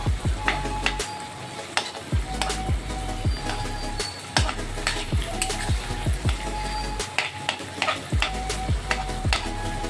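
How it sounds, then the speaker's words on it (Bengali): Onions fry in a pan until reddish with a steady sizzle, broken by sharp clicks and scrapes of a spatula stirring against metal. "সুন্দর করে পেঁয়াজটা লাল লাল করে একটু ভেজে নিই"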